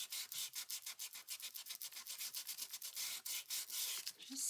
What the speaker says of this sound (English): Let's just sand it.